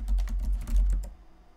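Quick run of keystrokes on a computer keyboard, a dozen or so close clicks in a steady burst before falling quiet.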